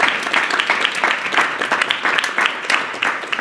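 Applause from the audience for panel participants at a fishbowl discussion forum, a near, continuous patter of many hands clapping at steady strength throughout.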